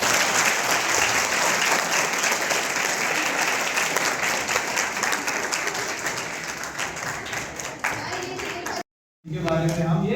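A seminar audience applauds steadily and loudly for nearly nine seconds, a dense continuous patter of many hands that fades slightly before cutting off abruptly.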